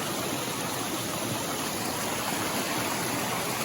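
Water in a stream runs down a mountain hiking trail, making a steady, dense rushing and gurgling that is close and constant and has no voices over it.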